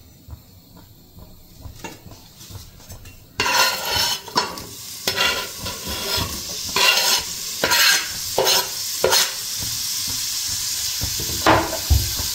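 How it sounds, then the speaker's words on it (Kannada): Onion, green chilli, curry leaves and turmeric sizzle in a hot pan, a steady close frying hiss broken by repeated scraping stirs of a spatula, with no talking. "ಈರುಳ್ಳಿ ಮೆಣಸಿನ್ಕಾಯಿ, ಸ್ವಲ್ಪ ಕರಿಬೇವು ಹಾಕಿ ಸ್ವಲ್ಪ ಅರಿಶಿನ ಹಾಕ್ತಾಯಿದ್ದೀನಿ. ಹಾಕಿ ಚೆನ್ನಾಗಿ ಫ್ರೈ ಮಾಡ್ಕೊಬೇಕು."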